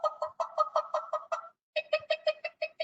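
A newly hatched chick peeps rapidly in two quick bursts separated by a short pause. The high, rhythmic cheeps are clear and close, with nothing else around them.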